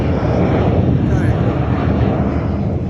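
A fixed-wing airplane passes low overhead near Ronald Reagan Airport in Washington DC, its loud, continuous engine roar filling every second and drowning out any other sound.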